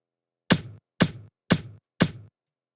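Drum loop from a Studio One pattern: four identical sharp hits evenly spaced about half a second apart, each with a short decay, clean and alone against silence.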